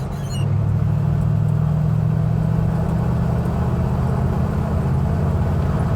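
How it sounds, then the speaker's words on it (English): A 1971 Chevrolet C10 pickup truck cruising at highway speed on the interstate, a loud steady low engine drone and road rumble heard from inside the cab, unbroken for the whole stretch. "we're going to hop on the interstate and go 70 out there, and in a 1972, 71 Chevrolet pickup truck"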